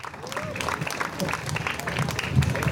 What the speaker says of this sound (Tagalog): Palakpak naman natin ulit sila, dalawa.